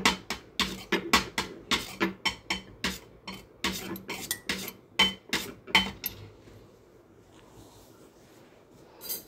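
Urad dal badi batter mixed in a bowl, a quick run of rhythmic clinks and knocks of a spoon against the vessel for about six seconds, close and crisp, then trailing off into near silence.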